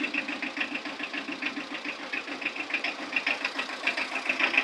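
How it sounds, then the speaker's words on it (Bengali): A Tata EX2 truck engine idles steadily after starting, making an even, rapid knocking pulse that sounds fairly close. No voices are heard. "স্টার্টটা শোনেন বুঝছেন স্টার্ট করলাম গাড়ি"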